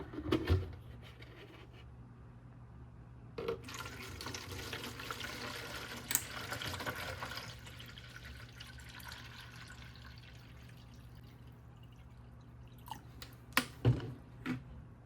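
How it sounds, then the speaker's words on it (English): Nutrient water poured into an indoor hydroponic container for plant roots, a steady soft splashing fill running through most of the stretch, with a few louder drips and knocks near the start and end. "So our goal is to just fill up the container just deep enough so that these roots can reach that water."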